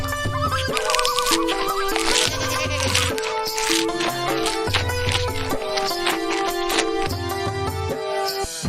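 Two goats bleat in a loud, steady run of repeated wavering calls that sits over a dense musical background, with no speech.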